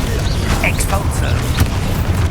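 Expulso spell blast in Hogwarts Legacy combat, heard as a thudding burst amid busy mechanical clanks, creaks and rumbling battle noise, loud and continuous over the whole stretch.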